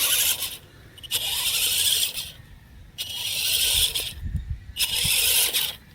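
Brushless motor of a 1/10 scale RC crawler whines and squeals in repeated bursts of roughly a second each, close and fairly loud, separated by brief lulls with low mechanical rattle.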